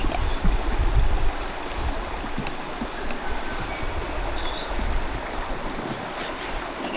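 Water in a pot boils hard at a riverside campsite on the Mitchell River, giving a steady, close rushing bubble that runs without a break.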